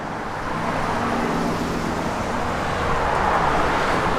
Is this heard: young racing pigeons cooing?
no